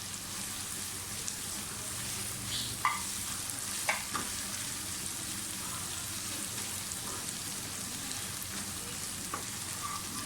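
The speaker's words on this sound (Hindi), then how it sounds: "अब इसमें कसूरी मेथी डाल दें पहले और थोड़ा सा भूनें" Garlic, ginger and dried fenugreek leaves fry in a pan with a steady, close sizzle, and a few faint clinks of a spoon stirring come through now and then.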